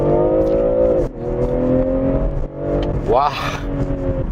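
A BMW M340i xDrive Touring wagon launches hard from a standstill, heard from inside, its engine note climbing loudly with short dips at each gear shift, while a voice briefly exclaims.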